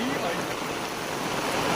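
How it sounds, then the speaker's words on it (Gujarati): Heavy monsoon downpour in North Gujarat, a dense unbroken roar of rain hissing evenly throughout, loud and close. "તો જોઈ લો મિત્રો, ધોધમાર હાલ ચાલુ હો,"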